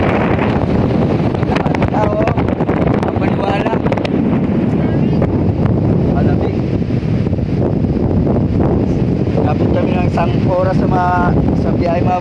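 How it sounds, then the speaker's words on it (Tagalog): Strong wind roars and buffets the microphone continuously at a viewpoint in Bagac, Bataan, loud and unbroken, while a voice speaks faintly beneath it. "Napakalakas ng hangin mga boss."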